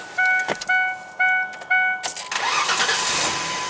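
Several chimes ring out in a repeated pattern before a car engine with a very low battery cranks on a SPANARCI jump starter and catches, settling into a steady idle close by.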